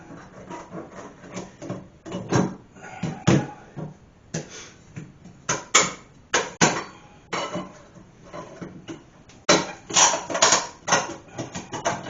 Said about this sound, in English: If I hammer the metal back in, the bolt goes with it.